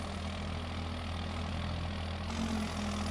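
A farm tractor's engine idles close by with a steady low rumble and a faint high whine that shifts slightly near the end, no voices.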